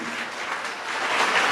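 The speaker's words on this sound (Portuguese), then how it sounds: "Então aplaude Jesus bem bonito." A church congregation applauds in a steady, dense wash of clapping that swells slightly louder toward the end, with no voices on top.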